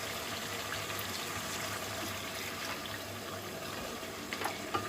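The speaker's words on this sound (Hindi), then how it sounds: "अब हम इसमें आधी प्याली जो है पानी शामिल करेंगे।" Water poured into a pan of chicken shahi korma, a steady, soft trickling and pouring sound lasting throughout, with faint kitchen background and no talk.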